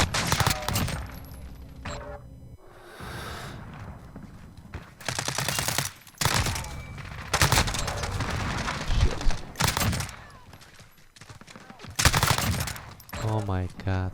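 A full-auto Sykov pistol in Modern Warfare, fired akimbo, rattles off long rapid bursts again and again, loud and close, with brief pauses between strings and a voice talking over part of it.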